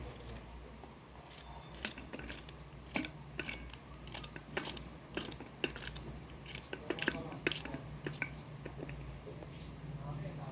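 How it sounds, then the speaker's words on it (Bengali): A knife slices okra on a cutting board in a home kitchen during a flood, giving a series of close, crisp, irregular cuts and taps, with a voice talking quietly in the background. "কেটে নিচ্ছি ভেন্ডিটা"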